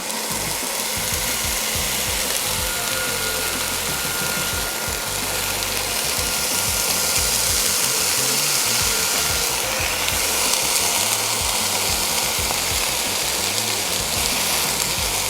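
Thick bacon sizzles in a hot cast iron skillet, giving a loud, continuous crackling hiss close by that runs steadily throughout with no talking.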